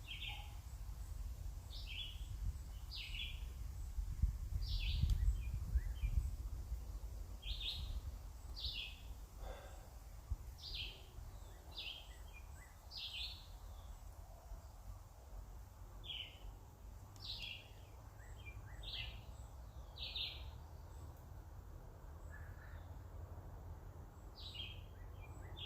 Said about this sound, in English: Got at least 5 different kind of birds I can hear.